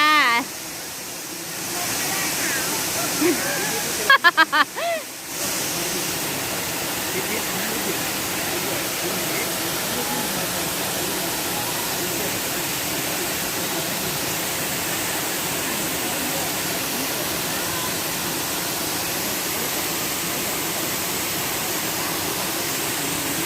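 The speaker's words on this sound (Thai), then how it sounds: "เสียงน้ำตกแบบ" Rushing water at the third tier of Erawan waterfall in Thailand, a steady loud broadband roar running throughout, with a brief burst of voices and a momentary dropout early on.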